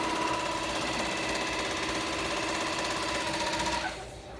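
Barudan PRO3 single-head embroidery machine running at a steady, fast mechanical chatter with tonal hum, close and continuous, then winding down abruptly near the end.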